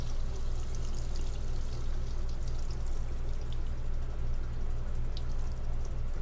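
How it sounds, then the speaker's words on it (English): Water runs from the kitchen sink faucet in a 2022 Thor Sanctuary / Tranquility 19P RV, a steady, dense splashing pour with a low constant hum beneath it and no speech. "The water is running through."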